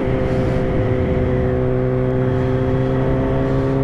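A Kawasaki Z900 motorcycle, restricted to 48 hp for the A2 licence, runs loud and steady at speed, its engine note holding a strong, even drone close to the microphone with no voices over it.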